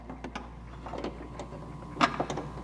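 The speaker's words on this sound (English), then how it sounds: "You hear that pop? That means it is loosened, and now we can pull out the headlight." Pop of a plastic adjuster cam loosening inside a Porsche Cayenne 955 headlight housing, a single sharp click standing out just after midway against faint mechanical rattles and background hum.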